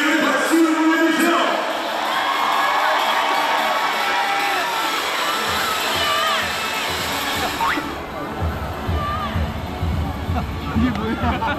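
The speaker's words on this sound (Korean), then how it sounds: "대단한 선수에게 박수를 보내주세요." A baseball stadium crowd cheers and applauds during a home run race at an all-star event, a broad roar of whoops, shouts and clapping with children's voices and distant announcing mixed in.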